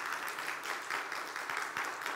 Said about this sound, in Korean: 여러분 좋은 와이프 얻었다고 생각하면 한번 박수 한번 쳐보세요